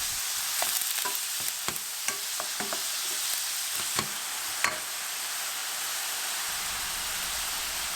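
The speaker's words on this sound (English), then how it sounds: "I'm gonna cut 2 medium-sized onion and begin to saute in 3 tablespoons each vegetable and olive oil" Two medium onions sauté in vegetable and olive oil for Turkish chard rolls, giving a steady close sizzle with scattered pops and occasional utensil clicks throughout.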